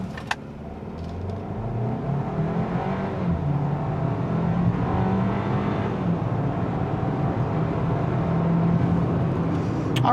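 A 2024 Hyundai Kona N-Line all-wheel-drive small SUV with a 1.6 turbo engine accelerates hard from a standstill to 60, its engine note building into a loud, steady drone heard from inside the cabin.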